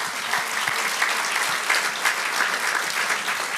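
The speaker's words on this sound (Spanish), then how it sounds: "Dele gloria a Dios y un aplauso al Señor." Steady, dense applause from a church congregation, sustained throughout with no talking.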